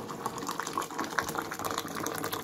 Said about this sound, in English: So this is the hot water now